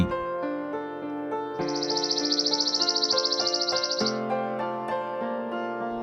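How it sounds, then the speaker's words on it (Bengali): A small bird chirps in one fast, continuous trill lasting a few seconds, heard over gentle background music. "চড়ুই"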